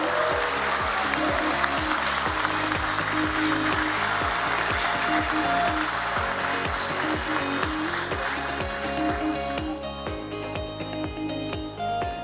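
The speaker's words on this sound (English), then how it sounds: "With a big round of applause, ladies and gentlemen, let's welcome Shri Vijay Chandok" Sustained applause from an audience at a stock exchange listing ceremony runs the whole time, mixed with loud rhythmic music with a steady drum beat; the clapping eases slightly toward the end.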